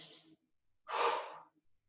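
Close, audible breathing during a hand towel resistance workout: a sharp exhale, a brief pause, then a longer, louder inhale.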